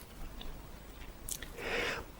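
Gum being chewed close to the mic in a quiet whispered setting, a few soft wet smacks and clicks that swell into a louder moist crunch near the end, with no talking.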